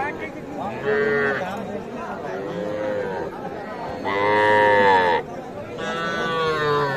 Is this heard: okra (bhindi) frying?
no